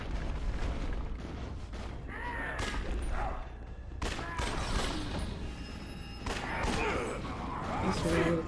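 Grenade launcher fire in the game Yakuza: Dead Souls: repeated loud booms and bursts roughly every second or two, layered over a noisy game battle with a voice talking among the blasts.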